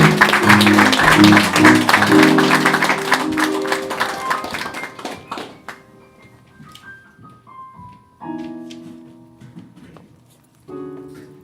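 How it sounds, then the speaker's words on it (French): Audience at a poetry evening applauds loudly with dense clapping that fades out after a few seconds. Scattered taps and brief tonal sounds follow in a quieter room. "On l'applaudit, mesdames et messieurs."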